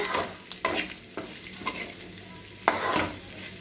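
Okra and cashew fry with garlic sizzles in a pan while a spoon stirs and scrapes in a few sharp bursts over a constant hissing background.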